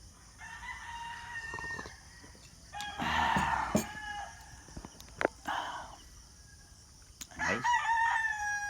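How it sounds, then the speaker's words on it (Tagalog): Roosters crow several times at a moderate distance, each long cock-a-doodle-doo standing out in turn against a quiet outdoor background dotted with faint bird chirps and hen clucks. "At saka mga huni ng mga sunoy."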